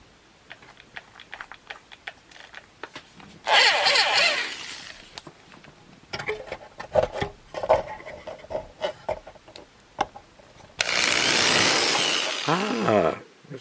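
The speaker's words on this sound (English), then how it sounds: "I've got the drill spinning the wrong way" A power drill with a dull bit runs in reverse against a pilot hole on an AHM HO-scale bridge, giving two loud bursts of whirring motor noise, the second ending in a falling spin-down whine.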